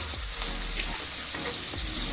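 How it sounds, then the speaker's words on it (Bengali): Onions frying in a pan for a meat curry give a continuous, even sizzle up close, with faint stirring and no speech. "এবার পেঁয়াজগুলোকে ভেজে নিই।"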